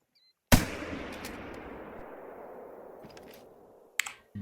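A single loud rifle shot in a hunting video game, a sharp blast at the start trailing into a long rolling echo that fades over several seconds, with a faint click near the end.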